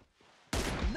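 A single sharp gunshot in a shooter video game, sudden and loud after a quiet moment, ringing out with a noisy tail.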